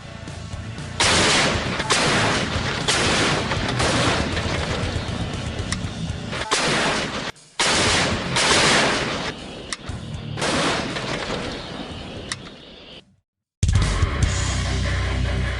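A French-made LG-1 105 mm howitzer operated by the Indonesian Marine Corps fires repeatedly. The loud, booming blasts and rumbling echoes come one after another, broken by brief silent gaps.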